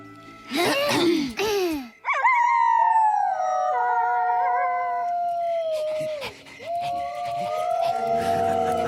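Cartoon wolves howl loudly and close: a few short yips first, then a long, sustained howl joined by other wailing voices that briefly dip and rise again in chorus.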